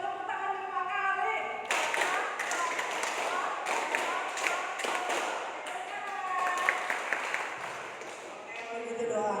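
A group in a school classroom claps hands together in short bursts, following a counted pattern of twos and fives, with someone speaking in between and over the clapping.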